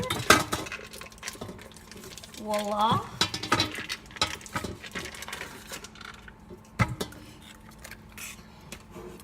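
A whisk clinks and scrapes against a bowl in quick irregular taps while breaking up and blending lime jello cheesecake mixture, with a brief spoken word near the start.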